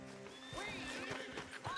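A horse neighs with a rising, wavering whinny in Red Dead Redemption 2, close and clear, with hooves clopping underneath and faint talk.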